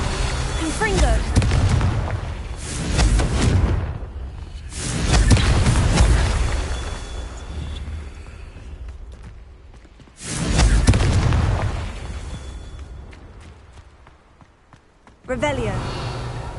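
Repeated Confringo fire spell blasts in the Hogwarts Legacy video game, several loud booming bursts a few seconds apart with rumbling decay, heard alongside speech.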